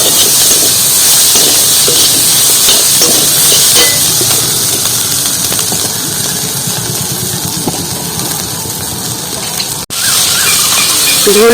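Chana dal and bori fry in a pan with a loud, continuous sizzle and hiss, close up, steady throughout with a brief dip near the end.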